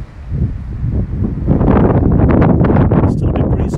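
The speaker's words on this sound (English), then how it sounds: "Still a bit breezy." Gusty outdoor wind buffeting the microphone, a steady low rumble that swells louder after the first second and a half and stays strong throughout, with no voices.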